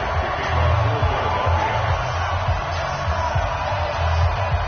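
Stadium crowd noise from an EA Sports NFL video game broadcast of the Philadelphia Eagles against the Los Angeles Rams, a steady, dense roar of spectators that stays loud and continuous throughout.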